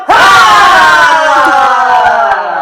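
A loud burst of cheering erupts suddenly and holds as a sustained, ringing shout of voices, close and strong, fading only slightly toward the end with no clear clapping.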